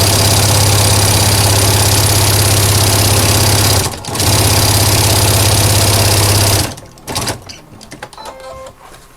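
A sewing machine stitches a fabric notebook cover in a loud, steady mechanical whir that pauses briefly, resumes, then breaks into short stop-start bursts near the end.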